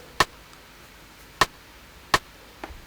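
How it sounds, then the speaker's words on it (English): Rim shot drum sample in FL Studio for a trap beat, struck three times as sharp, dry clicks in a loose bounce pattern over a quiet background, followed by a softer hit at the end. "So the rim shot just sounds like this."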